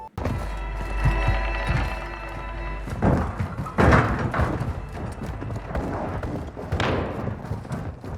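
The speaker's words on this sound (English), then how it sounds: "And the footsteps." Footsteps in Call of Duty DMZ, a run of dull thumping steps with occasional heavier thuds, mixed with game ambience and a few louder impacts.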